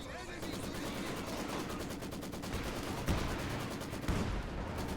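Gunfire and an artillery barrage in the Company of Heroes 2 video game on the Port of Hamburg map: rapid machine-gun bursts rattle steadily, broken by a couple of heavier blasts, loud and close.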